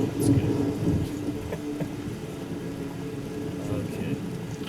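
Steady rain falls with a low rumbling background in The Witcher video game, a soft continuous wash with faint distant thunder, heard alone at low level.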